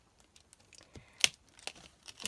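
Scissors cutting out a pre-stamped paper piece, faint close snips and crinkling paper rustles in quick irregular bursts, with one sharper snip partway through.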